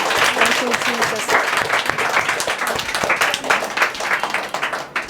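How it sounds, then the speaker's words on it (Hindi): A church congregation claps loudly and continuously for Jesus, dense sustained applause filling the room throughout with a voice speaking over it. "आइए सब लोग यीशु के लिए जोरदार ताली बजाकर उसका धन्यवाद करें"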